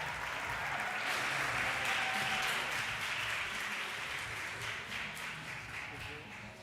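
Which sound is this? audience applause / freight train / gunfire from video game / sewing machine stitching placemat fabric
audience applause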